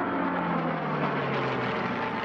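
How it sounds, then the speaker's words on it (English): A World War II era P-51 propeller plane flying at an air show heritage flight, a steady broad engine drone with a low tonal hum holding throughout, no talk. "It's a World War II era P-51."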